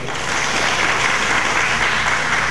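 A crowd at a college graduation ceremony applauds, dense continuous clapping that stays loud and steady throughout, with no speech.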